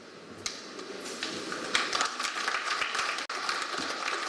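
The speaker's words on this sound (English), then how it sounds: "A big round of applause." Audience applause at a board directors' awards event, a steady dense wash of clapping from a crowd that holds for several seconds, with a brief dip and no speech over it.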